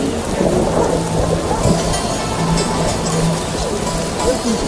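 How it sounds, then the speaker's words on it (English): Heavy rain pours steadily in a thunderstorm within The Witcher video game, with low thunder rumbling beneath the dense, continuous hiss of rainfall for the whole stretch; no one speaks. "It rains and it pours."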